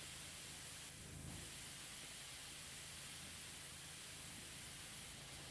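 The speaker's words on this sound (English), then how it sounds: "Using the narrower spray." A narrow-nozzle pressure washer in PowerWash Simulator 2 sprays in a continuous, even hiss at steady level throughout, with no talking.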